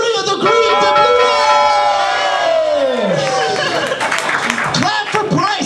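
A crowd at a comedy roast battle cheers, whoops and claps after a close quarterfinal match, loud and close, layered with excited shouting and voices over the top.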